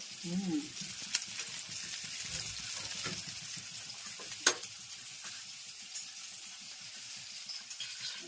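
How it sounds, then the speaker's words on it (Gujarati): Stuffed eggplant tempered in hot oil with mustard seeds, cumin and fenugreek powder: a steady close sizzle runs throughout, punctuated by sharp clicks and scrapes of stirring, with no one talking. "રીંગણાનો પણ વઘાર થાય છે, જોઈ શકો છો"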